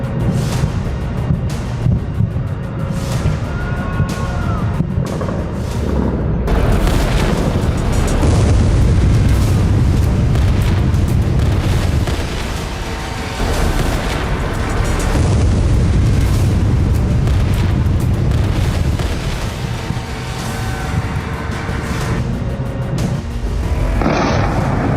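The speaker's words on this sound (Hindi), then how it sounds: "तेहरान में अब धमाके पर धमाके हो रहे हैं" Explosions in Tehran during the Iran–Israel war, heard as repeated heavy booms and rumbling blasts over a continuous roar of wind and noise, loud throughout with no talk.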